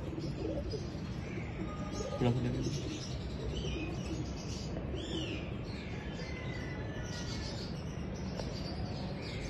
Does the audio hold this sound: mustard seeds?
no